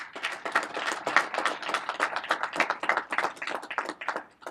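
A small gathering claps in applause, a dense flutter of individual hand claps close by, steady and moderately loud for a few seconds before thinning out at the end.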